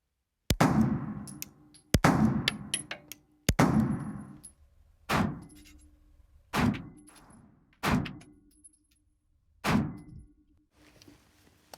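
Rock Island STK100 9mm pistol fired slowly at a target, seven sharp, loud shots spaced roughly one to two seconds apart, each with a short ringing decay and a faint metallic ping, no talking.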